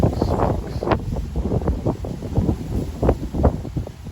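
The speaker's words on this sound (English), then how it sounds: "the wind is going to change direction, so we're facing the direction it's coming from" Hot wind gusting across an outdoor microphone during an Oregon heat wave with record temperatures, a steady buffeting rumble with uneven gusts swelling and easing throughout, no talking.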